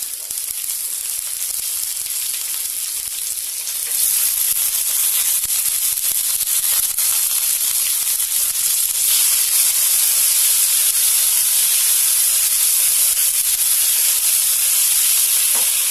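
Tomatoes hit roasted masala in a hot pan while cooking Bengali-style rohu fish curry, setting off a loud, steady sizzle with bright hissing steam that swells after a few seconds and keeps going.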